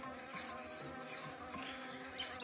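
A housefly in a cartoon video game buzzes continuously, a steady thin droning hum with faint wavering, quiet and unbroken throughout the short stretch.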